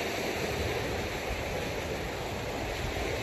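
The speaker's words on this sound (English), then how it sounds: "Got some good choppy waves." Choppy waves breaking steadily on a lakeshore on a breezy day, a continuous broadband wash with wind, loud and unbroken with no voices.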